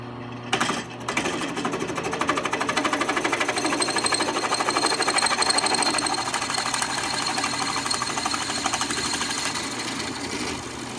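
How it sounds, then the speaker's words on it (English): A steady, loud mechanical whine and grinding of a drill press boring slowly through a clamped metal motorcycle lever, continuous for several seconds after a brief start-up. "I got this clamped to the drill press to see if it works"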